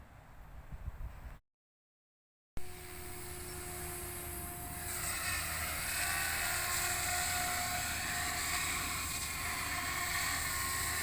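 An OMPHOBBY M4 RC helicopter in flight, its motor and rotors producing a steady high whine and whir held close by, briefly cut out before resuming and swelling slightly louder, with no talk over it.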